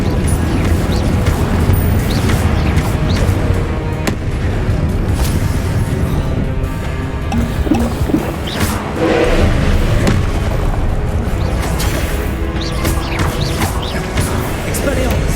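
Incendio fire spells burst in Hogwarts Legacy combat, with heavy booming impacts inside a dense, continuous wall of loud battle noise that never drops away.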